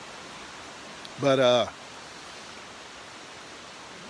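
Broadband rushing of a creek flowing far below a hillside campsite on Vermont's Long Trail, a steady even wash running throughout, interrupted once by a brief burst of voice.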